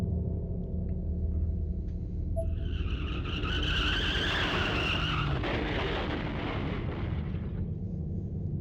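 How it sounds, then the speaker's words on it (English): A car crash with skidding tires in the horror game Corpse Party: Blood Drive: a long tire screech rises over a dense, rumbling low roar and fades into a continuous loud wash of noise, with no voices. "Then there was an oddly familiar sound. Another car accident, again right outside my door."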